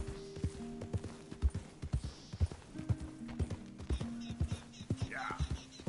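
White horse trotting in the Western video game Red Dead Redemption 2, hooves giving a steady clip-clop rhythm of hollow thuds, with faint game ambience and a brief soft voice underneath.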